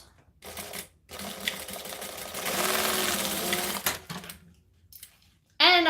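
A sewing machine stitches the lining gusset of a bag in a close, steady mechanical whir, stopping and restarting in short runs, with a brief voice at the end.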